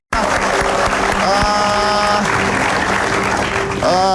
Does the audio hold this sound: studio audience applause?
yes